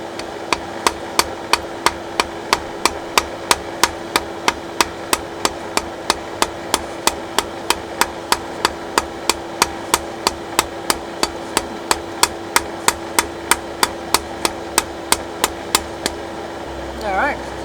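Steady hammer blows on hot iron while dishing the spoon end of a hand-forged spoon auger bit, around forty sharp ringing strikes at a fast even rhythm, close and loud over a constant background hum.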